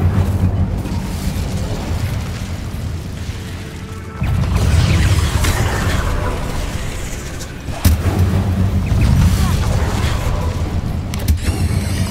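A fire spell, Incendio, cast in the video game Hogwarts Legacy, bursting out with a loud whooshing blast that roars over a low rumble. A second burst follows a few seconds later.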